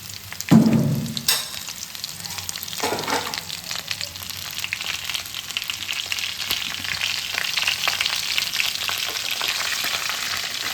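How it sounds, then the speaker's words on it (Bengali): Turmeric-coated mango pieces sizzle steadily in hot oil for a Bengali jaggery mango pickle, opening with a loud splash-like burst as they hit the pan, then a continuous close crackle with occasional stirring scrapes. "তেলে মধ্যে আমগুলো দিয়ে দিলাম, হলুদ মাখানো আম"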